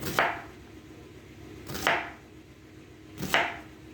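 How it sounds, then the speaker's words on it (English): Three separate knife strokes chopping an onion finely on a cutting board, spaced evenly about a second and a half apart, close and crisp with a quiet room in between. "let me chop up my onion real quick for you"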